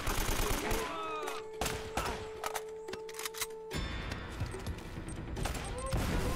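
Rapid gunfire bursts and repeated shots ring out from a combat scene in the action video game Uncharted, loud and dense, with a sustained tonal hum midway and chaotic bangs throughout.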